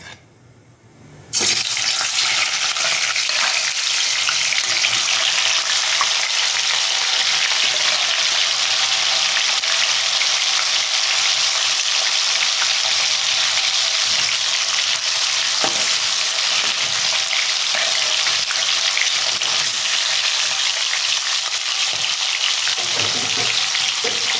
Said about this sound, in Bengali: তেলটা গরম হয়ে গেছে আর আমি মাছগুলো এখন দিয়ে ভেজে নেবো